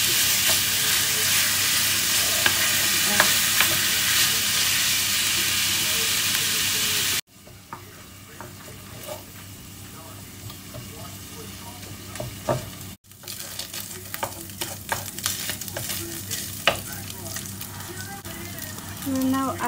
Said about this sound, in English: Cook the beef meat, breaking up the lumps with a spoon for 3 to 4 minutes